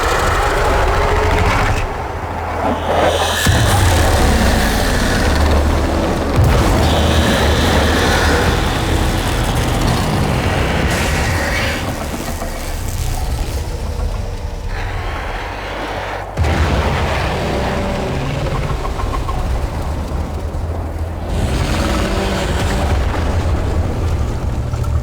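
Explosions boom in Warframe, a series of loud heavy blasts and concussive thuds rolling over a dense rumbling battle backdrop, with sharp bursts punctuating the steady roar.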